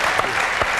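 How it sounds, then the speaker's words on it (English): Studio audience applause at a televised Australian football show, a dense, steady burst of clapping with no voices over it. "Give him a round of applause."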